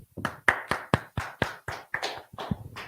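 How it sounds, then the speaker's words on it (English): About eleven sharp hand claps in a quick, fairly even rhythm, close and distinct, at a gathering before a Hebrew language class. "clap it up"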